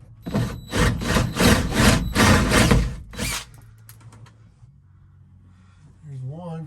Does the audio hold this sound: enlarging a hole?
yes